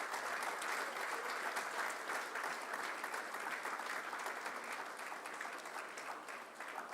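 A large audience at a business event applauds steadily, a dense wash of many hands clapping together that holds for several seconds and eases slightly toward the end, with no talk over it.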